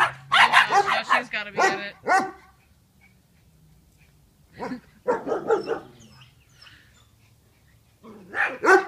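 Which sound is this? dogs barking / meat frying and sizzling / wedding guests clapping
dogs barking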